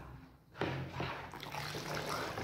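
Cold water poured for homemade liquid floor soap, a steady splashing trickle that starts abruptly and runs on close by without pause.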